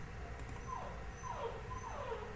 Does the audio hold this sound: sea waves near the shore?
no